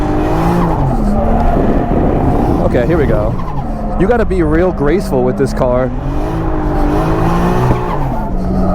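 High-powered custom drift car sliding through corners, loud engine roar with wavering squealing tires in the middle, while a driver talks over it.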